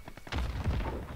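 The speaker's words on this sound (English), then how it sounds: "Interesting cluster strike." Cluster strike explosions in Call of Duty: Modern Warfare hit as a rapid string of heavy, muffled booms and thuds, fairly close and loud.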